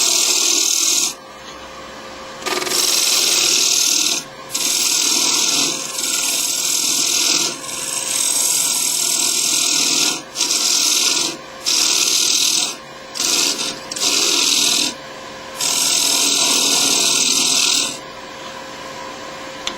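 Tool cutting into a spinning wooden bowl on a wood lathe, loud close hissing scrape in repeated bursts of a second or several seconds, separated by short pauses, over a constant motor hum.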